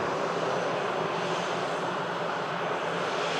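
EasyJet airliner arriving from Paris at Manchester Airport, a close, loud wash of engine roar and rushing air that stays steady through the short stretch, no talking over it.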